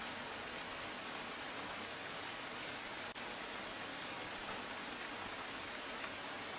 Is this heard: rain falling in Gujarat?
yes